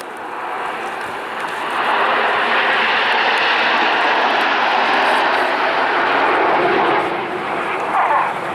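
Red Arrows display jets at RIAT 2016 sweeping past with smoke on, a loud roaring engine rush that builds quickly and holds steady, then eases slightly, with faint commentary underneath.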